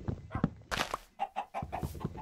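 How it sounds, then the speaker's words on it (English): Chickens cluck in a Minecraft survival world, a few short, close clucks and squawks repeating in an uneven rhythm, with no talking over them. "More chickens."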